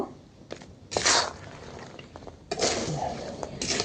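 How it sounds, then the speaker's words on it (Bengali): Fried khurma pieces being stirred through sugar syrup in a pan over low heat, with close scraping and clattering bursts separated by quieter gaps. "ভেজে রাখা ওই কুরমার খাঁটিগুলো এর মধ্যে দিয়ে দিচ্ছি এখন নেড়ে ছেড়ে সিরাপটা এর গায়ে লাগিয়ে নিব"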